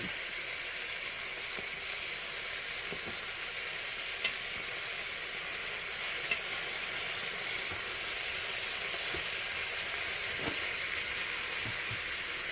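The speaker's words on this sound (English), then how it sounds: "You can hear that sizzle." Meatballs sizzle steadily in a hot pan, a continuous bright hiss and crackle with occasional small clicks and taps, close by and without talking.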